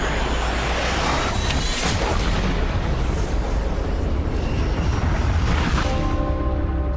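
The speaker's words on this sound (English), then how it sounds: "The trailer for the long-awaited sequel to the mega-hit Top Gun" Booming effects from the trailer for the Top Gun sequel form a loud, continuous roar of rumbling blasts. The rumble runs steadily throughout without any speech.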